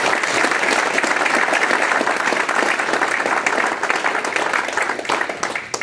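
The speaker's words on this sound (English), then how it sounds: "Let's give Dr. a round of applause" A room full of people applauding at an awards ceremony, dense sustained clapping that holds steady and loud for several seconds before easing slightly at the end.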